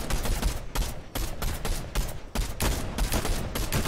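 Sustained Fortnite gunfire hammers away almost without pause, dense rapid shots broken only by brief gaps, loud and close throughout.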